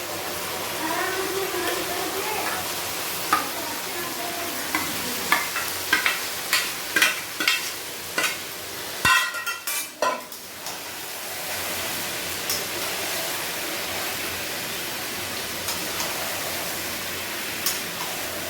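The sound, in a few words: chicken meat frying and stirred with browned onions for biryani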